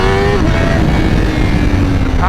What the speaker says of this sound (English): The exhaust valve, I can tell, is open now because I can actually hear the bike.